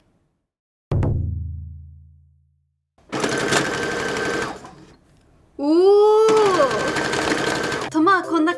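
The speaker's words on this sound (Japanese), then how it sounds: "じゃじゃん、私のミシンです。" A home sewing machine, set up to stitch fabric, runs in two brief whirring bursts of a few seconds each, loud and close, with a clunk before it and voices between the runs.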